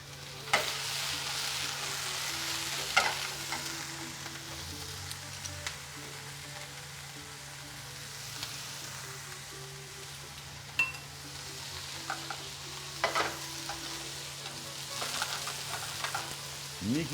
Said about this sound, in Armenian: սմբուկը տապակում ենք